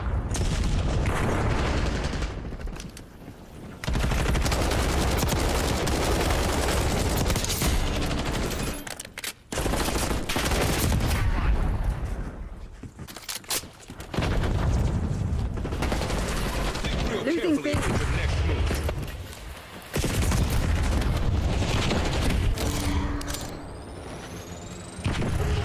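Video game combat with sustained gunfire, machine-gun bursts and booming explosions, loud and nearly continuous with brief drops, while a player talks over the action.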